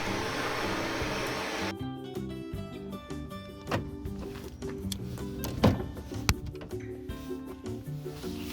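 A household vacuum cleaner drones steadily at low level for a couple of seconds, then cuts off, followed by scattered thumps and small clattering handling noises in a room.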